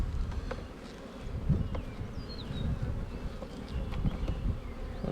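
A dense hum of honey bees surrounds an opened hive box as plastic frames of capped honey are lifted out, with occasional knocks and rustles over the continuous close buzzing.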